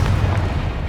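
A Confringo blast spell from the Hogwarts Legacy video game lands as a short, deep booming explosion, loud and close, with a rumbling low end and no talk over it.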